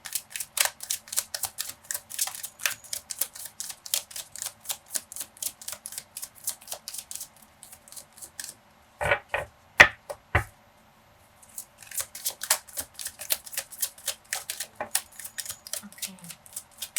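Tarot cards are drawn and shuffled in rapid runs of crisp, close flicking clicks, broken midway by a pause and a few heavier taps before the quick riffling resumes.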